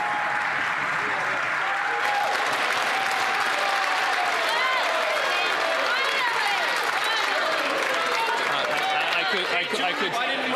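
Sustained applause fills a parliamentary chamber during question period, a dense steady wash of many hands clapping with voices and murmurs mixed in throughout.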